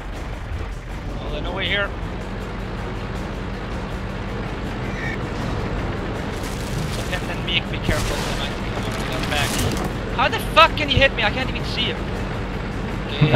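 Tank cannon blasts and gunfire from World of Tanks, set in a historic Battle of Cologne event: sharp booms and bursts break out at intervals over a dense, rumbling battle din, loudest near the middle and end.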